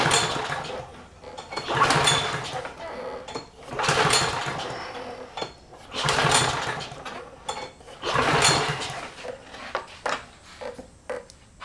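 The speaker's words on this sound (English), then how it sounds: "We're going to pull the string about 6 times and see how much compression we can build up." Lawn mower starter cord is pulled about six times during a compression test on a dead mower, giving repeated rasping whirs from the recoil spaced roughly every two seconds, close up.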